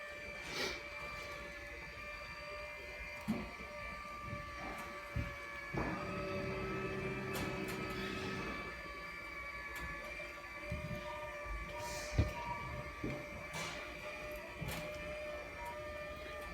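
The electric awning motor on a 2018 Wildwood 32BHI RV whirs quietly as it retracts the awning, with a steady motor drone through the middle and scattered clicks and knocks around it.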